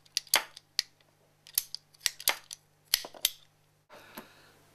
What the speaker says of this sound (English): cutting small rubber hose cleanly is pretty easy with hose cutters